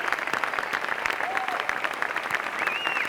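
Sustained applause fills a room at a 2006 IJA award show, dense steady clapping throughout with a couple of brief whistles or voice calls rising above it.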